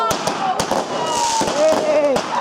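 Family backyard fireworks pop and crackle in a quick series of sharp bangs, with whistling, rising tones between them, while people talk and exclaim close by.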